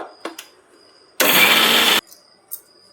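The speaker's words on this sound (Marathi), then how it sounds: "मिक्सरला बारीक करून घेऊया" An electric mixer grinder whirs loudly and steadily for under a second while grinding garlic masala with coarse salt, then cuts off abruptly, with brief clicks and knocks before and after.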